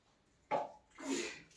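Two quick sneezes close together, the first a sharp burst and the second longer and breathier, in an otherwise quiet room.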